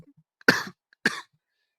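Two short, fairly quiet coughs from one person, spaced about half a second apart in an otherwise silent room, with no talking around them.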